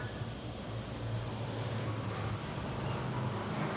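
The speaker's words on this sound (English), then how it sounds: "There goes the tram." A tram rolls through the Estrela district of Lisbon, heard from inside an 1890 apartment as a steady low rumble and broad street noise holding at the same level throughout, with no talk.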